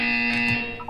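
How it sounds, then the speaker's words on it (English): A steady electronic buzzer tone from the video game Portal 2, loud and continuous for about a second with a slight dip near the end, no voices. "You will hear a buzzer."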